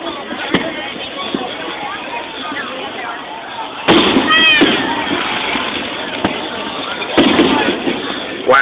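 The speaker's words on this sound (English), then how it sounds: "this is why they only want people shooting off fireworks here. The professionals." Professional fireworks display in Melbourne, Florida, its distant booms and crackling bursts standing out twice over a steady wash of crowd noise and chatter, with people talking throughout.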